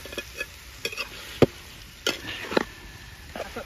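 Chicken drops into a pan of frying onion, garlic and masala, giving a soft sizzle under a few sharp spoon-against-pan clatters from stirring, close and fairly quiet.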